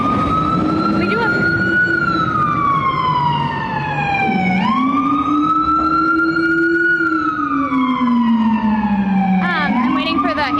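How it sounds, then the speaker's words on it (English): An ambulance siren wails loud and close on a New York City street, its rising and falling tone sweeping continuously as the vehicle passes by, with steady traffic noise underneath. "I'm waiting for the ambulance to go by."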